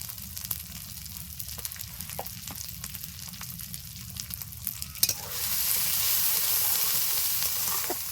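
Chicken with capsicum frying in a pan as chui jhal spice goes in, a steady close sizzle with scraping stirs, swelling to a louder hiss toward the end.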